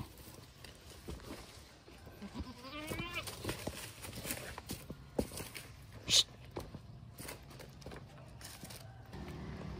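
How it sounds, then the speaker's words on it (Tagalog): Goats bleat on a farm while eating, several wavering calls rising over a background of shuffling hooves and chewing, with a sharp clatter near the middle. "kumakain na yung mga kambing natin"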